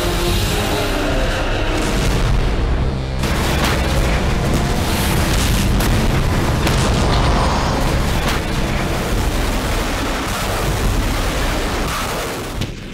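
A Russian MB-30 Smerch multi-barrel rocket launcher strikes during the Karabakh war, producing a continuous, dense roaring rumble of explosions and blasts that stays loud and unbroken across the whole stretch.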